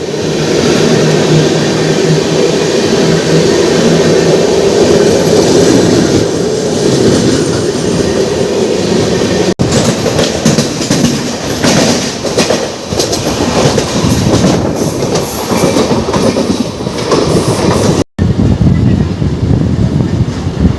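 Indian Railways train, near Haldia and Howrah, rolling past loud and close with steady wheel clatter and rail rumble throughout, with brief breaks in the noise.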